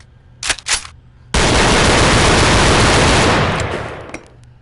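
Gunfire from handguns in the VR shooting game Gun Club VR: two short sharp shots, then a long loud sustained roar of rapid fire that tapers off near the end.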